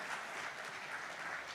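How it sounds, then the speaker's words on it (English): A round of applause from the audience at a product launch event, continuous and fairly soft, a steady wash of clapping with no talk over it. "Can we have a round of applause for all of them once again?"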